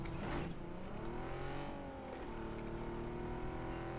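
A car engine drones and revs as it drives in PUBG: Battlegrounds, pitch rising and sliding steadily, quiet and continuous with no speech.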